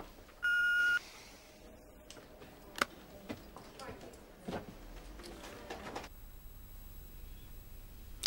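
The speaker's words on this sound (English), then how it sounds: "if you'd like to leave a message after the beep" An answering machine gives one steady electronic beep near the start, followed by faint clicks, taps and quiet room noise.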